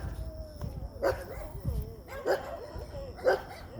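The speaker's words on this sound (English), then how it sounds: "they bark at me like I'm some new schmo" Dogs bark at a passerby on an early-morning walk, three or four sharp barks spaced about a second apart, moderately distant and fairly faint over low background rumble.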